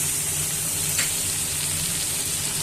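Chopped tomatoes hit hot spices with Kashmiri chilli powder for chicken kasha, giving a steady, close broadband sizzle with one brief louder burst near the start.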